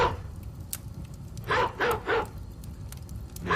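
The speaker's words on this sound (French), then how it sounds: "Faites taire le chien dehors," A dog barks outside, giving a few sharp barks including a quick run of three, moderately loud and slightly distant, with no talk over them.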